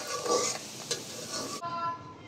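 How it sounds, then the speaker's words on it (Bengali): Sliced onions fry in oil to make beresta for fish biryani, a loud close sizzle with stirring scrapes that drops to a quieter, thinner hiss partway through. "তেল দিয়ে পেঁয়াজ দিয়ে দিয়েছি"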